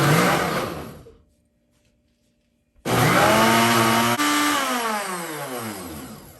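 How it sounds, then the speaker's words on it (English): A Ninja Foodi blender on its smoothie setting whirs loudly, stops into silence, then roars back on with a high, steady motor whine that slowly shifts pitch. "So I turn on my blender, and I'm going to press on the smoothie selection."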